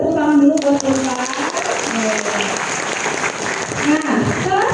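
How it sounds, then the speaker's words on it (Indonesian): Students applaud, a steady burst of crowd clapping filling a hall and sustained evenly throughout, with a voice talking over it at the start and again near the end. "Boleh tepuk tangan dulu buat teman-teman."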